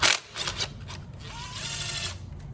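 Wrench or ratchet noise while the 10 mm nut is removed from the alternator power terminal of a 2000 Toyota Corolla: a loud burst of clicking at the start, a few more scrapes, then a steady low mechanical hum.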